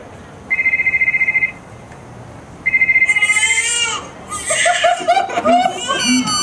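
Electronic cell phone ringtone in a movie theater, two short bursts of beeping tones, followed by a brighter musical ringtone melody playing alone.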